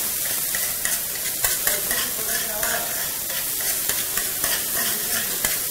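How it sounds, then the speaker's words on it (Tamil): Idiyappam mixture with salt, chili powder and oil sizzles in a pan, a continuous hiss broken by the scrape and tap of stirring. "நல்லா ஃப்ரை பண்ணி"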